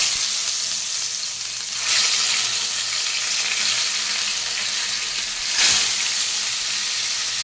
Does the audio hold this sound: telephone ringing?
no